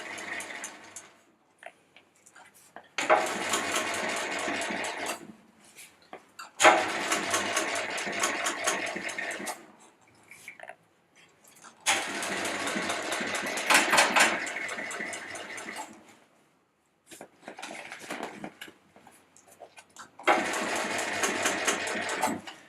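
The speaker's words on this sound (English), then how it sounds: "Then we're going to stitch around the bottom of the bag all the way to the other side. Do a lock stitch here, forward, backwards." A sewing machine runs in several long bursts while lock-stitching around the bottom of a bag, with a steady mechanical whir separated by short pauses, close and loud, with no talking.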